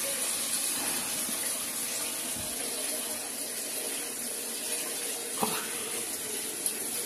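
Water runs steadily from a tap, gushing as a dog is washed, a constant hiss with a couple of faint knocks.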